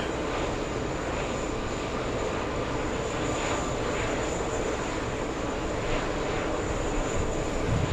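Airliner engines roar steadily at JFK airport as a flight bound for Bogota moves nearby, a broad continuous whine-and-rush sound with no talk over it.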